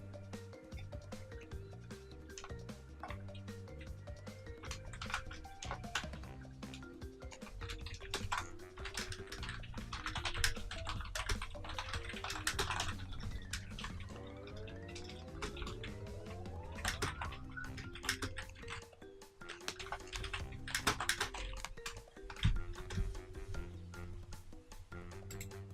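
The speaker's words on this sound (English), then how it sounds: "I'm just typing a message" Keys clatter in quick, irregular bursts on a computer keyboard over a game soundtrack with music and sound effects, the typing fairly close but partly buried under the game audio.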